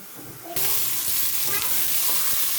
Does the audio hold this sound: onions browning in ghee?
yes